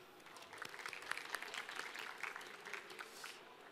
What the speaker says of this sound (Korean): 큰 박수와 함께 스테리 무대 시작하겠습니다.